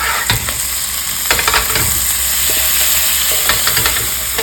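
Cubed chicken and minced garlic fry in a pan, a loud close sizzle broken by sharp stirring clatters and scrapes at irregular intervals.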